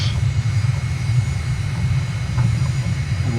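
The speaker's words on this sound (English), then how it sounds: "it's the longest landing I've ever done" Airliner engines drone steadily through a landing in Microsoft Flight Simulator, a loud continuous low rumble with a faint whine above, alone without talk.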